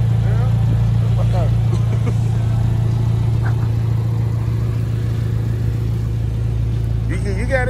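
A car engine runs steadily at an airport in Sanford, Florida, a constant low drone close by throughout with occasional faint voices over it.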